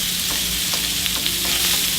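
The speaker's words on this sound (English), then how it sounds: "you also want to continually kind of turn over the sausage so it doesn't burn" Sausage fries loudly and close in a hot pan, a dense continuous sizzle with faint stirring.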